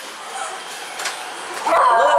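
A dog greets someone coming home with excited yips and whimpers that rise in intensity near the end, heard up close and mixed with indistinct voices.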